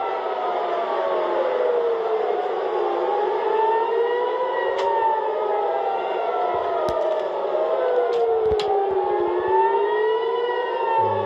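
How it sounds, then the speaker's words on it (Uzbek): Wailing civil defense air raid sirens in Israel during Iranian missile strikes rise and fall continuously, several overlapping tones sweeping up and down, loud and steady throughout with a few brief clicks. "Isroilda hozir sirenalar ovozi"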